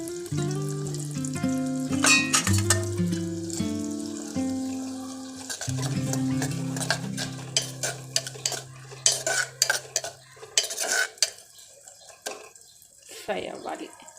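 Onions, green chilies and ginger-garlic paste fry in a pan with cumin and mustard seeds, under clinking utensil stirs and pot knocks, with tonal ringing early on and a soft sizzle between sharp scraping bursts.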